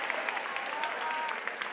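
A home crowd at a high school unified basketball game claps and cheers steadily, a faint, even wash of applause from across the gym.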